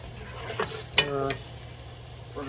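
A utensil scrapes and stirs garlic and softened onions in a frying pan, with a few short clinks and scrapes over a low, steady sizzle, heard close and fairly quiet.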